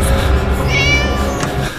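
Cartoonish cat meows from the Scary Teacher 3D game on Android, a drawn-out rising-and-falling meow over steady game background music, close and clear.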